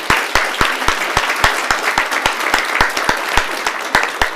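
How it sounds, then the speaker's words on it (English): Steady applause from an audience at a school board meeting, with sharp individual claps standing out over a dense crowd roar; continuous and fairly close. "Let's give her a big round of applause."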